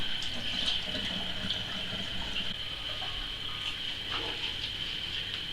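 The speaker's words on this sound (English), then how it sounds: "I've just added some cold water just to swirl it around and extract any sugars and extra flavours" Cold water is poured into a brewing pot and swirled around to rinse out leftover sugars for a homemade grapefruit nettle beer. It makes a steady, moderately loud gush and slosh with no speech.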